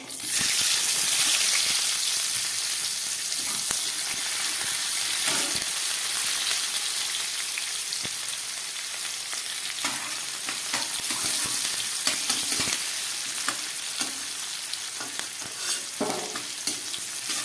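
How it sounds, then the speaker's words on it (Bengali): Nigella seeds and a small onion sizzling in hot oil for a pointed gourd dish, a loud continuous crackling fry with occasional stirring scrapes, with no voices. "এবার দিয়ে দিচ্ছি একটু কালো জিরে ফোড়ন। আর দিয়ে দিচ্ছি ছোট একটা পেঁয়াজ।"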